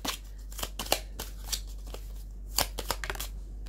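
Tarot cards are shuffled up close in a run of quick, crisp riffling flicks and taps, irregular and fairly loud, with no talking.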